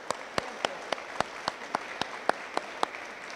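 A lone person clapping at a board meeting, a round of applause for a colleague being honoured, with about a dozen evenly spaced, fairly faint claps in a quiet room.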